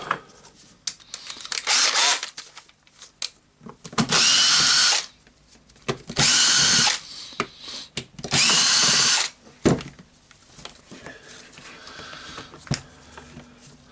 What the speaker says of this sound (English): Now we can unscrew the screws here, and we will hope to get everything out.